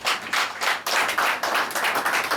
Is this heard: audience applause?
yes